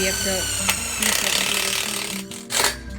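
A ratchet tightens brackets on a high tunnel greenhouse truss, its clicking pawl running against steady low background hum, with a brief louder mechanical clatter near the end.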